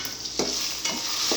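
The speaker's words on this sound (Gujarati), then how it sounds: "તેલ નાખીને ડુંગળી ટમેટાં મરચાં સરસ મજાના ફ્રાય થઈ રહ્યા છે." Onion, tomato and chili frying in oil as the tempering for Maggi noodles, a steady close sizzle broken by three scraping stirs of the spoon through the pan.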